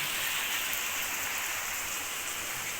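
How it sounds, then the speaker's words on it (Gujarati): Heavy rain pours down at a Jagnath Mahadev temple, a dense, constant roar of drops on surfaces that stays loud and unbroken, with no voices. "ત્યાં અત્યારે વરસાદ ખૂબ વરસી રહ્યો છે"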